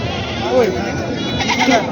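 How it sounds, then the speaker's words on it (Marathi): Goats bleat briefly amid a busy livestock market in Parbhani, Maharashtra, short wavering cries heard under and between people talking nearby. "शेतकऱ्याच्या खूप चांगल्या क्वालिटीच्या मोठ्या मोपाच्या शेळ्या आले बाजारामध्ये आलेल्या आहेत"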